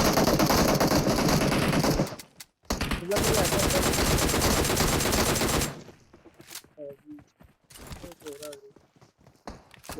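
Bursts of automatic gunfire and rapid shots crackle loudly through a PUBG Mobile firefight, with a brief pause and then a long sustained volley, fading into quieter footsteps and scattered sounds with voices speaking.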